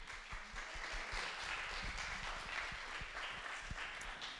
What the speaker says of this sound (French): on peut s'applaudir très fort